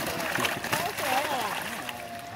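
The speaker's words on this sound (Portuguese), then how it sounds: "Sacolada indo pra água, 4 sacolas de uma vez, hein?" Fishing bait bags, four at once, splash and slosh into a fish pond, a busy watery churn heard up close under someone talking.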